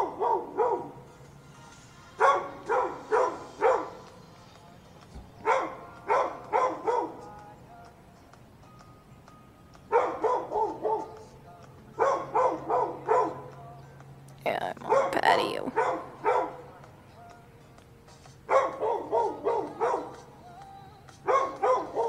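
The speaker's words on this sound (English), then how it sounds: "He's still barking." A puppy barks in repeated bursts of quick, high yaps, several sharp barks per burst with short pauses between them. The barking is close and fairly loud, and a person speaks softly in the gaps.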